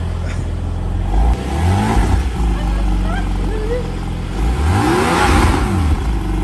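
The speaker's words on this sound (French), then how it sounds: "tu peux donner 2-3 coups de gaz" A car engine is revved in two or three throttle blips, each a rising and falling whine over a steady idle rumble, loud and close, with people talking quietly beneath it.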